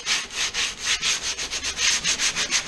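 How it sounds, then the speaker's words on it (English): A plastic poly kayak hull is hand-sanded to smooth off burrs around scratches and gouges. Steady, rhythmic back-and-forth rasping strokes sound close and clear, with no voices. "I'm going to start by giving the area a bit of a sand, just to smooth off any burrs"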